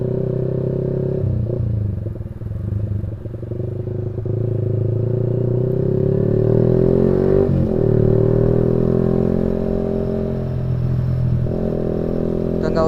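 Motorcycles ride slowly through traffic in Banda Aceh, a steady close engine rumble with gentle revving and some clatter, and car engines mixed in around them.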